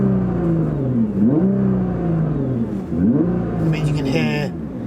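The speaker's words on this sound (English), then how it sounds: "You can hear the engine more, you can hear the exhaust more, you can hear like it's like a whine." An Audi RS6 engine hums steadily from inside the cabin, rising and falling in pitch with a faint high exhaust whine, while people talk over it.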